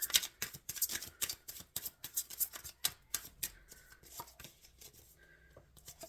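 Tarot cards are shuffled in quick bursts of crisp slapping and flicking, close up and fairly quiet, easing off toward the end.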